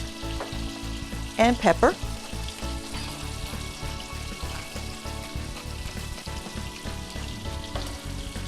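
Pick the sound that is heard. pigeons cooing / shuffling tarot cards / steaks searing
steaks searing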